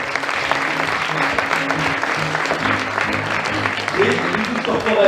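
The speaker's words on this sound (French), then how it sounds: "Sous vos applaudissements" Audience applause at a corporate pitch event, a steady dense clapping from a crowd filling the whole stretch, swelling slightly near the end.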